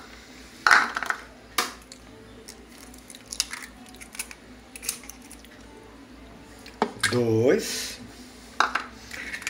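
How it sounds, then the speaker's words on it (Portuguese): Eggs are cracked one after another into a separate bowl for an apple oat cake, with sharp taps and squishy cracks spaced apart, alongside brief speech. "Estamos quebrando aqui numa vasilha separada para evitar de pegar algum ovo estragado."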